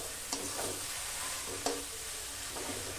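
Grated carrot cooking for carrot burfi keeps up a low, steady sizzle in a pan, with a couple of soft scraping stirs and light taps against the metal. It is close and quiet, with no voices.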